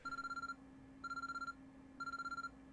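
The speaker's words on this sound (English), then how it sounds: "urgent-sounding ringing noise suddenly rang throughout the room" An urgent electronic alarm rings in the visual novel game Chaos;Head Noah, three evenly spaced bursts of rapid, bright pulsing tones, loud and alone against a low hum.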